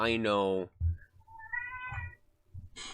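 A house cat meows several times in short, clear bursts, close by, with someone talking over and between the calls.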